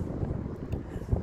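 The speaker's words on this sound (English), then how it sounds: "It's really windy" Strong gusts buffet an outdoor microphone aboard or beside the Moshulu sailing ship, a low rumbling roar that swells and dips steadily throughout the short stretch with no talking.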